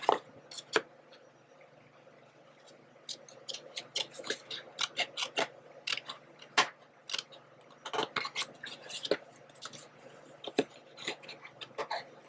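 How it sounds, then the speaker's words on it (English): Scissors snip away excess paper from handmade double-flap ephemera pocket pages, producing quiet, crisp cuts in an uneven series of short clicks across the whole stretch, with no talking. "now you're just going to cut up the excess parts here"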